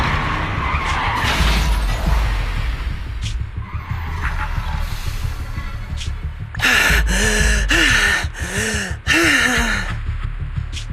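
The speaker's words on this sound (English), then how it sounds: "What's up with that truck? We're gonna crash!" A truck skids in the video game Zenless Zone Zero: a rumbling rush of engine noise gives way to several loud, close tire squeals in rapid bursts, with gasping breaths between.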